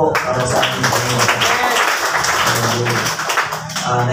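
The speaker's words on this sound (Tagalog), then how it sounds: "Malakas na palakpak po para sa ating Panginoon." A church congregation applauds loudly and steadily throughout, a dense wash of clapping with a voice faintly mixed in.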